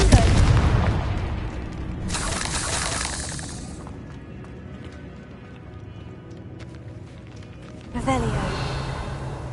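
A Confringo explosion spell is cast in Hogwarts Legacy, a dark catacomb setting: a broad bursting blast erupts around two seconds in, with a second burst near the end, over low rumbling game ambience.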